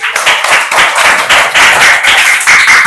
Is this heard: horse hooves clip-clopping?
no